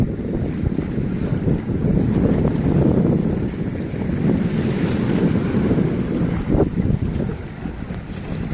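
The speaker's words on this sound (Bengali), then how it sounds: "বড় বড় ঢেউ," Big ocean waves roll and crash at Hon Chong Promontory in Nha Trang, a continuous heavy surf roar with strong wind buffeting the microphone, loud and close throughout.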